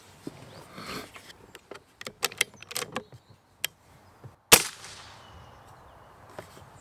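Unsuppressed Umarex 850 M2 4.5 mm CO2 air rifle firing outdoors, sharp cracking shots with small clicks and handling noises between, one especially loud crack standing out, with wind in the background.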